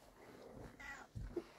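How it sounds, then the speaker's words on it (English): A cat gives a short meow, close by, over a quiet room background with a soft shuffle just before. "You say meow?"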